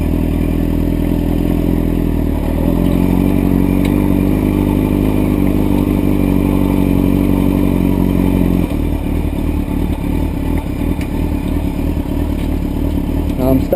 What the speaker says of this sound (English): It's going to slowly let the clutch out while giving it some throttle.